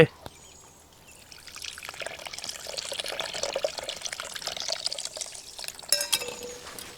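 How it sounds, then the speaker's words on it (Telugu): Water trickles and splashes steadily onto tamarind for several seconds, growing a little louder midway, with soft wet squelching as it pours into a container nearby. "ఇప్పుడు చింతపండు పోసుకుందామండి"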